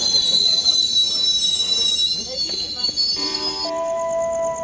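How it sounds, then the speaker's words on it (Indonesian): At Cimahi station at night, the Cibatuan local train sets off as a whistle and high station tones ring over a rolling rumble, with a steady multi-tone chime near the end and voices mixed in. "Kereta api Cibatuan diberangkatkan kembali dari Stasiun Cimahi ya"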